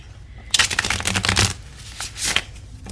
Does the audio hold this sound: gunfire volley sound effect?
no